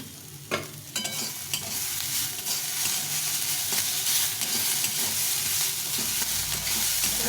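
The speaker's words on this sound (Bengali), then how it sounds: "এখন একটু ভালো করে ভেজে নেব" Bottle gourd peel frying in a pan, stirred steadily with a utensil, giving a continuous close sizzle broken by frequent scraping strokes against the pan, with no talking.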